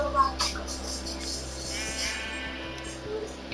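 Sheep bleat in the video game Minecraft, with a few short bleats over game sounds and steady background tones, while players talk excitedly.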